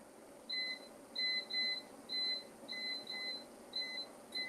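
An oven keypad beeps repeatedly while the cooking temperature is entered, a series of short, clear electronic double-toned beeps in quick irregular bursts, fairly close and alone over faint room hiss.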